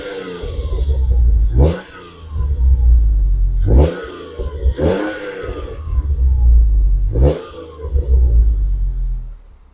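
A warm Ford Mondeo ST220 engine, just pulled up, idles and is blipped in four distinct revs that rise sharply and fall back, loud and close, with no talk over it.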